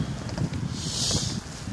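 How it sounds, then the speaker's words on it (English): Strong blizzard wind at 7 am, a steady broadband roar with low rumbling buffets against the microphone, continuous and fairly loud for the whole stretch, with no talking. "So yeah, wind's strong, my hand is frozen."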